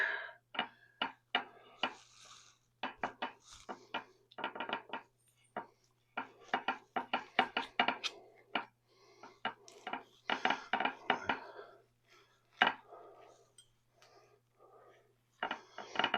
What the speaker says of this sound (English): We're going to carve off a piece of breast here